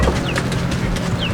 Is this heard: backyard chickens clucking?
yes